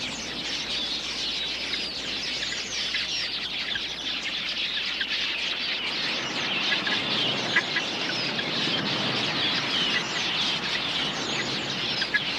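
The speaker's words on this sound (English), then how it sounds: "A flock of quilias makes a hit-and-run raid on the waterhole." A large flock of quelea birds raids a waterhole in Etosha, Africa, filling the air with a dense, continuous twittering chatter and fluttering at moderate distance, with no voices.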